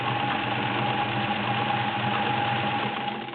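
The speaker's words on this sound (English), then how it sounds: "Next, we're doing 12 layers of cotton. The same stitch," A Sears Kenmore model 1802 sewing machine runs steadily, stitching a multi-point zigzag through twelve layers of cotton with a 16 needle, a continuous close mechanical whir with a faint motor hum and no voices.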